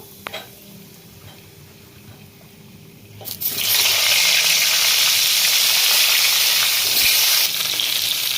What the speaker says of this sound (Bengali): পটলগুলো আমি ভেজে নেবো